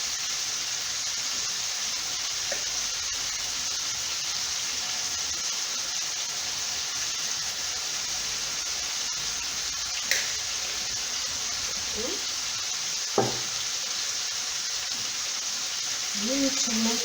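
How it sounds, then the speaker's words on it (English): Ground beef frying with taco mix in a pan, a steady, soft sizzle and hiss that runs throughout, with a few faint clicks. "You need to make sure that there will be no big chunks of ground beef once you fry it."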